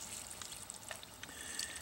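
Water poured into a depression in tilled soil makes a soft, continuous trickling and splashing, faint and steady with small gurgles throughout.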